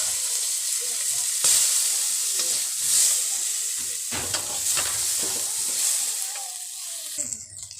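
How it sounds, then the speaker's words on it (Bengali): Green plantain pieces fry in a small amount of oil left in the pan after frying eggplant, giving a steady bright sizzle throughout, with occasional louder crackles and spatters and a few soft scrapes. "কাঁচকলাগুলো দিয়ে ভেজে নেব।"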